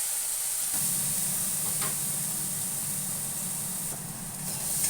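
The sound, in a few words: cumin seeds and onion paste sizzling in hot oil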